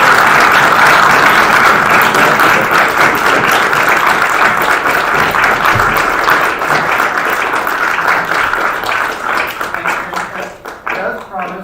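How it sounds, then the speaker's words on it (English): Sustained, loud applause from a large crowd, steady clapping that continues for several seconds before tapering slightly at the end. "let's have a big round of applause for both teams"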